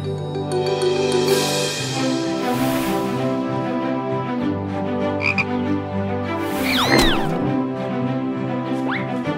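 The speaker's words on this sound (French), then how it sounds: "Regardez les enfants, une grenouille." Cartoon frog croaking in a pond scene, repeated croaks over a busy musical soundtrack with squeaky effects, fairly loud and steady throughout.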